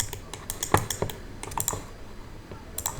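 Computer keyboard keys pressed for a shortcut while rigging a character in 3D software: a quick scatter of sharp clicks and taps, close and fairly quiet, with short pauses between presses and no talk.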